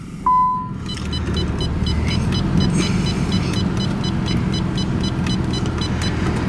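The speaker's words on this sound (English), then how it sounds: "Let's get ourselves some AC going." Air conditioning runs inside a 1991 Nissan 300ZX coupe. A short electronic beep comes first, then a steady broadband blower rush under the idling car, with faint ticking clicks.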